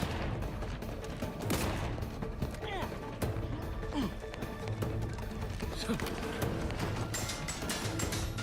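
Bursts of gunfire rattle repeatedly in The Outer Worlds 2 amid a dense game soundscape, with voices talking throughout.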